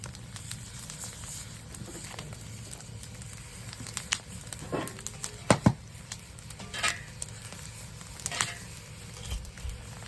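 Mushrooms browning in a pot at a boreal hunting camp, a steady low crackling sizzle with scattered sharper pops and crinkles, close and fairly quiet, no talk.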